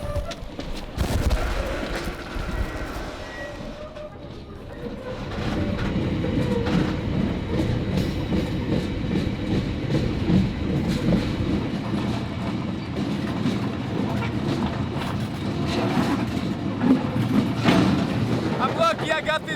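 A container freight train rumbles past close by, a steady heavy roar with rhythmic clanking wheels and rattling cars that continues for a long stretch.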